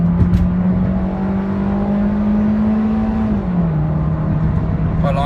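A Honda City on 17-inch wheels with a single-box exhaust revs loud and close. The engine holds a steady drone, then its pitch steps down near the end.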